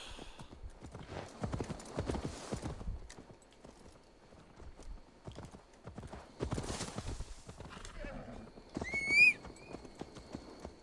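Horse hooves clip-clop in the video game Assassin's Creed Valhalla, in bursts of rapid steps with quieter stretches between, ending with a brief whinny.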